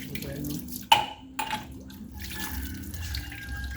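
Strong stream of water running from a household tap into a sink, a steady rushing wash with a sharp clatter near the start and a second knock shortly after.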